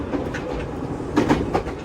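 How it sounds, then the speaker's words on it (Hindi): A crowded tourist train runs along the line to Mount Fuji in Japan, with a steady rolling rumble and a few rhythmic clickety-clack wheel beats, heard fairly close. "वो देख पूरी ट्रेन भरी पड़ी है भाई, पूरी टूरिस्टिक ट्रेन ही है"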